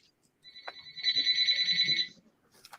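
A phone rings with an unfamiliar new ringtone, a bright two-tone electronic trill held for about a second and a half, with soft handling clatter of Lego pieces beneath it.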